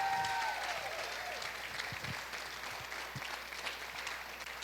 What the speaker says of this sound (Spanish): Denle un fuerte aplauso si usted es uno de los victoriosos que cree esa palabra.